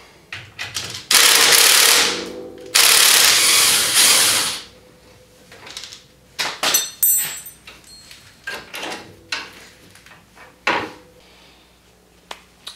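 A hand wrench ratchets on the front shock bolts of a 2015 Wildcat Sport side-by-side. Loud bursts of rapid clicking come first, followed by scattered close metallic clinks and knocks, with quiet gaps between them.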